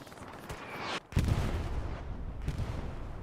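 Several booming gunshots in the game Hell Let Loose in quick succession, one loud blast followed by a lingering rumble and another distant shot.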